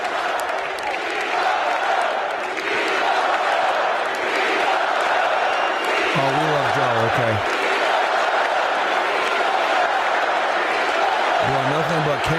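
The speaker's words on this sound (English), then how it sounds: "You can even hear it in the cheers." A crowd at a political rally cheers and applauds steadily and loudly throughout, with a voice speaking over the noise and chanting voices rising near the middle and end.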